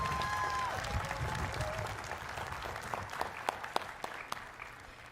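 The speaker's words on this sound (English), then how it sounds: "Please join me in giving her another warm round of applause to welcome her to" Applause fills a hall at a Carnegie Mellon University commencement ceremony as the crowd welcomes a new member, steady clapping at moderate distance with a few sharper claps standing out near the end.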